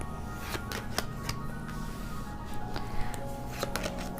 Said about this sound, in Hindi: जिन्होंने भी पाइल नंबर 2 चूज़ किया है उनके लिए हम कार्ड्स निकाल रहे हैं